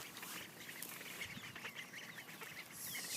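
Khaki Campbell ducklings quack and peep in a soft, busy chorus nearby, with scattered short calls over faint background noise.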